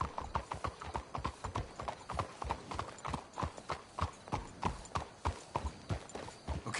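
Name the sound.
horses' hooves in the video game Red Dead Redemption 2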